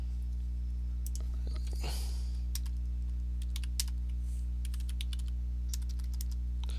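Commands typed on a computer keyboard for network switch troubleshooting, a scattering of light, quick key clicks in short bursts, faint over a steady electrical hum.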